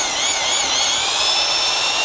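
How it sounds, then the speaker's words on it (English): A slow-speed mixer churns a half pail of thinset cement mud for large-format tile in a steady, loud whirring drone with a faint wavering pitch and no speech. "I'm using a slow speed mixer."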